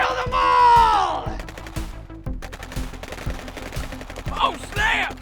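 Rapid machine-gun fire in a battle scene from a comedy war sci-fi film, steady close bursts of regular shots running under shouting voices.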